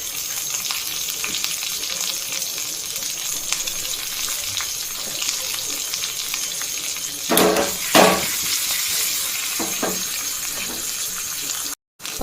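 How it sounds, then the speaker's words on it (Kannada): Mustard seeds, broken chilies, curry leaves and hing crackle and hiss in hot oil as a tempering for carrot chutney powder, with a constant close sizzle broken by a couple of sharper spattering bursts. "ಒಗ್ಗರಣೆ ಆಗಿದೆ."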